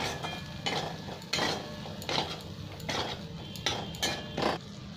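Spices and ginger are stirred and fried in a pan for an eggplant korma, a spoon scraping and clinking against the metal in regular strokes roughly every second, close by with a soft sizzle underneath.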